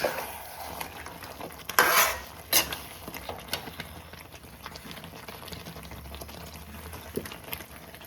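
Mutton biryani gravy is stirred in a pot, with a spoon scraping and clinking against the metal over a low, continuous simmering sizzle, close and moderately loud with a few sharper knocks, and no speech.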